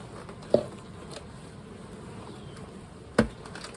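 Bees from an open hive buzz in a faint, steady background hum, broken by two sharp close knocks.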